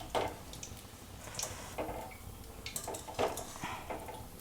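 Fried spiny gourd chops being lifted out of hot oil with a metal strainer, faint clinks and scrapes of metal on the pan with soft sizzling and dripping, close and quiet.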